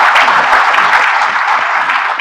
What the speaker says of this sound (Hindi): थोड़ा ताली बजाइएगा उसको